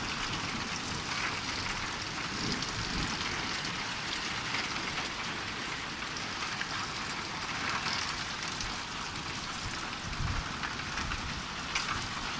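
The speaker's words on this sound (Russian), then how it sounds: "У нас в Сургуте град." Hail falls during a thunderstorm in Surgut in September, a steady dense patter of pellets striking surfaces with faint low rumbles underneath, continuous and fairly quiet with no voices.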